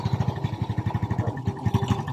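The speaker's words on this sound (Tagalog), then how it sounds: "mabilis umaksyon ang kanyang starter, kumandar agad" Honda XRM 110 motorcycle engine starting at once on the electric starter and settling into a quick, even putter of close exhaust pulses, loud and alone.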